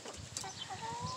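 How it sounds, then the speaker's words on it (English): Backyard chickens kept in a pen cluck softly and continuously, fairly close, with a short squawk partway through and a steady outdoor background. "And here's my chicken over here."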